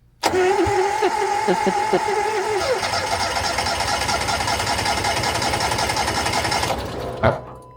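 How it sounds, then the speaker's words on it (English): A Wolfe Ridge 17VS-C wood splitter engine cranks steadily and loudly in freezing winter night air for about six seconds without catching, then falls quiet before a short final burst. "So I'm just going to crank this until it starts now."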